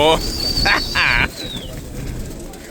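Pigeons call in a few short, close bursts, then the sound drops to a quieter background.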